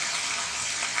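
Cabbage and chicken sausage stir-frying in a pan with no added water, giving a steady, close sizzle that holds evenly through the short moment.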